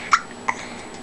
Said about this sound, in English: Got hiccups.